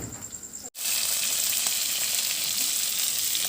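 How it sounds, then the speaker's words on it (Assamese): Fish frying in a pan makes a steady, dense sizzle that swells up after a brief cut and then holds loud and even to the end. "মই মাছ ভাজি আছোঁ"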